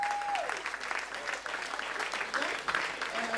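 A church congregation applauds to acclaim the Lord, a steady wash of clapping from many hands with some voices mixed in.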